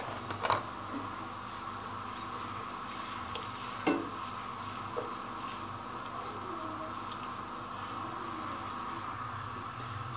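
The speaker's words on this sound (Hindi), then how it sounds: "इसको मैं गोल्डन ब्राउन होने तक फ्राई करूँगी।" Onions fry in hot ghee with a soft, steady sizzle and patter, broken by a few clinks of a spoon against the pan.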